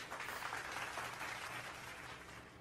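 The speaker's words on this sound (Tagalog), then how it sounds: "Palakpakan natin itong tao na to." An audience applauding a man in a hearing, a short burst of dense clapping that fades slightly toward the end.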